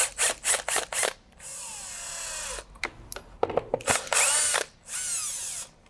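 A power drill backs screws out of a double-hung window coil: several short whirring bursts, then longer high whines with pauses between, close and loud, with no talking.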